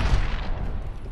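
A grenade blast in a first-person shooter video game: one loud, close boom with a heavy low rumble that decays quickly over about a second.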